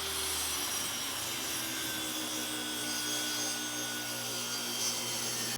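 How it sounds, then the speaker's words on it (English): A big hunk of oak board being cut down into strips with a power saw, a steady loud continuous whine and rasp running unbroken for several seconds with no talk. "this big hunk of oak's gonna have to get cut down into strips"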